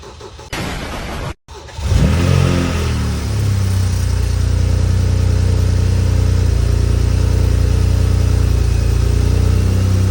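A BMW 335i engine cranks and fires after a short click and pause, flares loudly, then settles into a deep, steady idle that hums close by without any talk.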